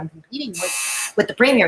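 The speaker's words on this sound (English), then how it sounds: "Sorry for that buzzer noise." A door buzzer for a delivery sounds once in a steady, harsh electronic tone lasting about half a second, nearby and loud, with someone talking just before and after it.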